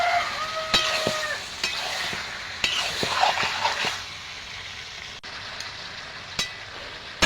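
Mutton frying and being stirred in a pan with onion, garlic and tomato, a steady sizzle with scraping stir strokes and occasional utensil clinks against the pot, close and fairly quiet.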